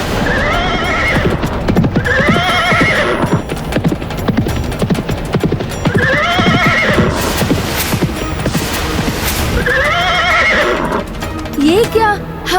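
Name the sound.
hundreds of horses galloping and neighing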